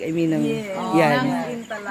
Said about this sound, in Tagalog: Na-enjoy nyo ba yung tunog ng kuliglig?